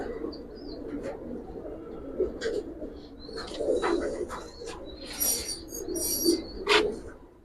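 Giribaz pigeons coo repeatedly in a loft, low soft coos overlapping in a steady murmur, with occasional faint higher chirps from other birds over a dull background hum.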